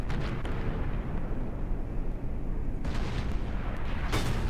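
Tank cannon fire from the World of Tanks game: a dense, loud rumbling barrage of booming shots and blasts, with sharp crackling bursts near the end.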